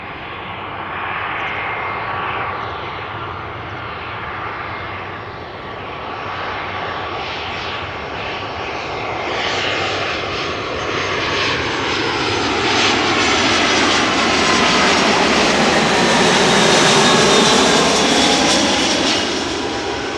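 An airliner descends toward the Polderbaan runway at Amsterdam Schiphol Airport, its jet roar swelling loud and close as it passes overhead, then holding a broad rushing whine, with no voices.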